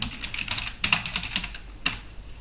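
Typing on a computer keyboard while entering a student name into an Excel spreadsheet, with a run of quick, close keystrokes in an irregular rhythm, a few louder taps standing out, and no talk.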